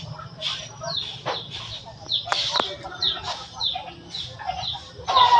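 Chickens go to roost and cluck in short, repeated calls from several birds at close range, over a low background hum with a few thin, high chirps.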